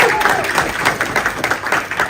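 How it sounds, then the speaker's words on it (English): Audience applause on cue from a host, a dense burst of clapping with a few louder peaks, fairly close and continuous through the short stretch. "Give him a round of applause."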